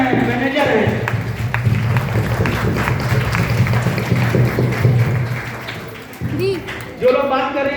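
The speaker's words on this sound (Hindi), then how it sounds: "और जोरदार ताली से एक बार उनका स्वागत करिए" An audience at a motivational speech event in India claps for several seconds, a dense, steady wash of applause that fades near the end as someone speaker's voice returns.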